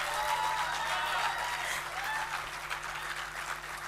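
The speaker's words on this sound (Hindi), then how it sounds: "एक बार ज़ोरदार ताली से मेरा मन बना दीजिए" Audience at a Hindi poetry recital (kavi sammelan) on a college campus breaking into sustained applause, a dense clapping wash that stays strong and tapers a little toward the end.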